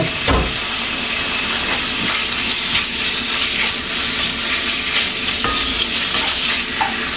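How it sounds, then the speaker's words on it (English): Beef sizzles loudly in a hot skillet during a stir-fry, a close and continuous crackling hiss with occasional scrapes of stirring. "You want to hear that sizzle."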